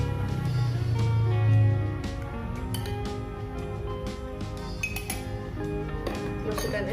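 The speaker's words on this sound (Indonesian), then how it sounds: "Tuang boba ke dalam gelas." Cooked, thickened boba pearls are poured into a glass, giving a run of light clinks and taps over a busy background with music-like tones.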